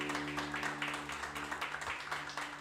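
Church congregation claps together during a worship service, a steady patter of many hands under a held keyboard chord, fairly soft and distant.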